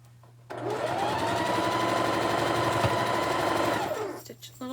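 A sewing machine runs steadily while stitching a flower-patterned Jolly Bar quilt, a close continuous motor whir lasting several seconds before it slows and stops.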